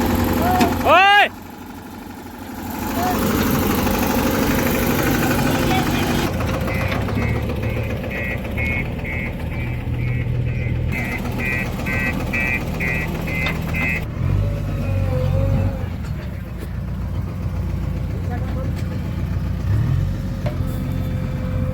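A JCB 3DX backhoe loader engine runs at light throttle as a steady mid-pitched diesel drone, with a brief rising whine early on and a shift in tone partway through, while people talk nearby.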